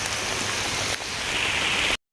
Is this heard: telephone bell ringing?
no